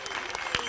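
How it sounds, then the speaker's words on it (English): An audience claps at an elementary school K-2 vocal concert, a brief burst of dense, steady applause from a crowd in a hall. "Give them a round of applause."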